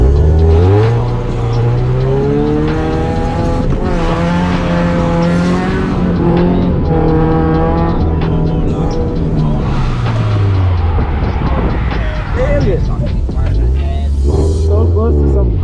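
A Scion FR-S drifting in the rain at night, its engine loud and close, revving high in repeated rising and falling sweeps with brief drops between pulls.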